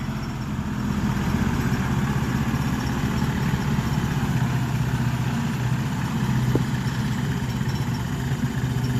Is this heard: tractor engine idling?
yes